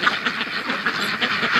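Ducks quack close by in a steady, overlapping stream of nasal calls, a flock that has been following chickens around a farmyard.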